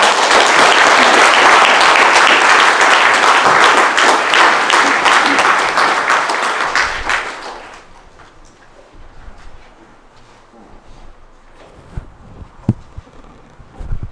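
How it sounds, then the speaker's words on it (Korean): Loud, dense applause from an audience welcoming a speaker at a Korean political event fills the first half, then fades out to near silence with a few faint knocks and rustles. "큰 박수로 맞아주시기 바랍니다."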